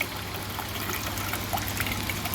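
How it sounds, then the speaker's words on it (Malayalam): Leftover water dribbles and trickles from the outlet pipe of a coin-operated water ATM after the pump shuts off, a soft, steady pour heard alone and close. "ഇനി ആ പൈപ്പിൽ കിടക്കുന്ന വെള്ളം കുറച്ച് വരും"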